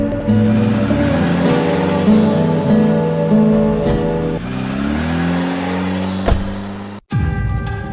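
A car engine hums loudly at close range and then revs up as the vehicle pulls away, rising in pitch before a sudden cut and a brief quieter tail.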